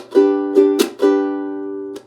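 A ukulele strummed with a few quick down strokes, chords ringing briefly between strums, close and fairly loud.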